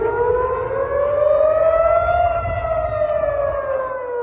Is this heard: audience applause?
no